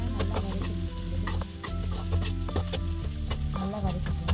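Tomatoes sautéing in a pan for cauliflower gravy, with a soft sizzle under repeated scraping and stirring clicks from a utensil. The sound is fairly faint and close, and no one speaks.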